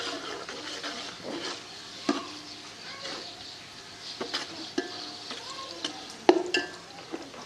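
Onions sizzle in a pan as they fry toward golden for a potato tahari pulao, with continuous moderate frying hiss and repeated clinks and scrapes of a spoon stirring against the pan.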